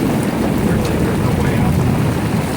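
Heavy rain pounds steadily during a severe storm in Monticello, Iowa, a dense, loud, unbroken roar close by with no pauses.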